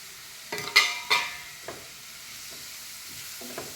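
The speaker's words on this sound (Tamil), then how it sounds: "போட்டுட்டு எல்லாத்தையும் ஒன்றா மிக்ஸ் பண்ணி அதில் போட்டுக்கலாம் மசாலாவை." Spice masala with chilli flakes frying in a pan and being stirred, a soft sizzle under a few scraping stirs and light clinks, close and quiet.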